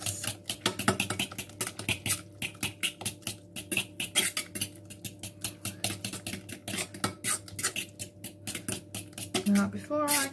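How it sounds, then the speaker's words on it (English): A fork mixing pease pudding quiche filling in a bowl, rapid rhythmic clicking and tapping strokes against the bowl, close and steady, with a person talking over it. "if I can't get this to the consistency I want with my fork"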